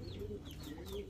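Red king pigeons cooing softly at close range, low murmuring coos repeating steadily through a quiet pen with faint higher chirps above.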